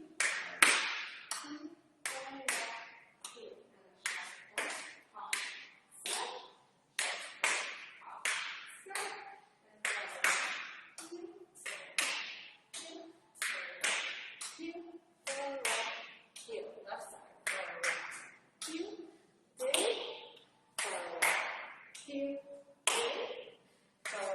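Sharp hand claps repeat in a steady rhythm during a step exercise in a power yoga class, a loud run of claps that continues alongside a voice.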